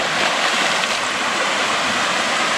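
Creek water rushes in a constant broad wash near a backyard pond and waterfall, loud and unbroken with no talking.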